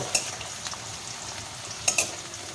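Winter vegetables frying in a pan for rohu fish curry give a soft, steady sizzle, with a few sharp clinks of a utensil stirring against the pan near the start and again toward the end.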